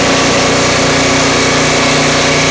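A Turbosawmill's engine holds a loud, continuous drone at high revs while the mill cuts sticky, knotty pine, with no talking.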